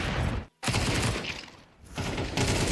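Rapid AK rifle bursts in a Counter-Strike 2 tournament match, loud dense gunfire with a brief gap and a quieter lull before the shooting resumes.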